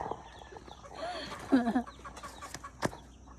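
Young chicks cluck and peep on a farm after being let out, a few soft calls and a brief louder burst, with faint talk nearby.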